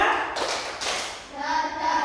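Two crisp group claps from a fourth-grade class, spaced about half a second apart, ring out close by as part of a call-and-response clapping game, with kids' voices heard between and after.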